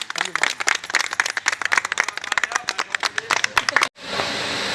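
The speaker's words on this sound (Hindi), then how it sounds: "इस विषय से सभी लोग ताली बजा दें एक बार।" Audience applause at a community gathering, a dense burst of many hands clapping for about four seconds before cutting off abruptly into a steady background hiss.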